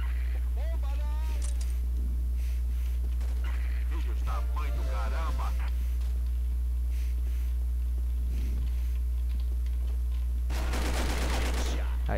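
Gunfire in the online shooter Combat Arms, with bursts of automatic fire, scattered single shots and a heavy burst near the end over a constant hum, while a player talks.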